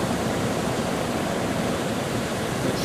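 Water of the River Carron at Stonehaven, Scotland, rushes steadily in soliton waves, a broad continuous roar and hiss with no breaks, moderately loud and alone.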